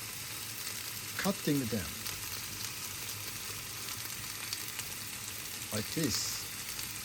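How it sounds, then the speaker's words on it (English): Pork sizzling and frying in a pan as chopped pieces go in, a steady crackling hiss throughout with brief louder stirring bursts, while someone talks over it. "I'm going to put the pork into the pan with chopping them,"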